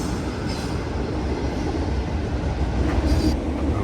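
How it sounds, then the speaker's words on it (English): Continuous loud rumbling of a long freight train rolling past close by on an overhead track, steady wheel and car noise with faint clanks, no voices. "there's 2 trains on that track going over that I gotta go under"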